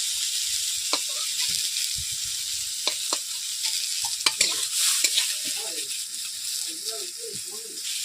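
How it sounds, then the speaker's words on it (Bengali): Small chopped potatoes stirred in hot oil in a pan for a village-style egg curry, with steady bright sizzling and occasional scraping knocks of the spoon, while someone talks softly under it. "আমি তেলের মধ্যে একটু নেড়ে নিচ্ছি। বন্ধুরা দেখতেই পাচ্ছেন আলুগুলোকেও ভেজে নিচ্ছি"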